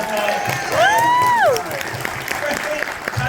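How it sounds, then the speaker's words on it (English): Audience applause at a Fan Expo Canada 2023 panel, a broad wash of clapping from a crowd with a sustained tonal whistle or cheer sweeping through the middle, continuous and fairly loud throughout. "please give a huge round of applause to the very wonderful"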